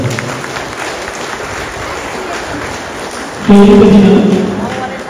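Loud applause breaks out at a cheque handover event at an ashram, with a continuous noisy clatter of clapping and a tonal voice-like sound swelling over it near the end.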